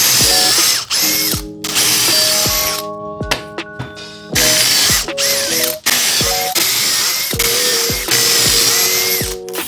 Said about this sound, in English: Next is pocket holes with my Kreg jig.